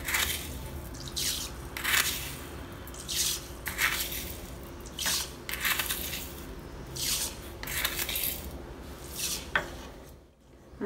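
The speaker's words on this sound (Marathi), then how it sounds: "5 ते 6 चमचे साखर आपण ताकामध्ये टाकणार आहोत." Spoonfuls of sugar, five to six, added to buttermilk for spiced masala chaas (mattha), a series of soft scraping and pouring bursts at irregular intervals, close and moderately loud with short pauses between them.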